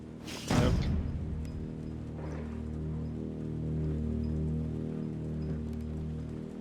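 Nighttime rain patters steadily in the game Detroit, a soft continuous hiss over a low ambient drone, with a brief louder whoosh near the start.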